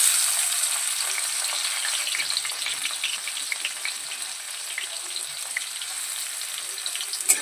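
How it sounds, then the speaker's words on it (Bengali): Chopped tomatoes hitting hot oil with fried whole spices, a steady bright sizzle with light stirring throughout, close and continuous, for a no-onion, no-garlic vegetarian paneer dish. "এবারে আমরা ছোট ছোট করে কেটে নেওয়া টমেটোটা দিয়ে দেবো।"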